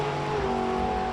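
A drag racing car on a drag strip at an ACE Ohio event, its engine a steady, loud, droning roar with strong tonal bands, heard close and alone for a brief moment.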